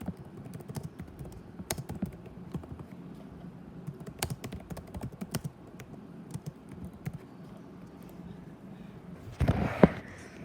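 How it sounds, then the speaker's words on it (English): Typing on a Dell laptop keyboard: quiet, irregular key clicks tap along steadily and close by, ending in a slightly louder burst of keystrokes. "So let's just type it out"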